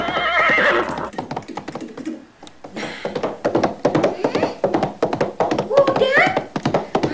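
A horse lets out a loud whinny at the start, followed by a busy run of clip-clopping hoofbeats and knocks, with a voice briefly heard among them.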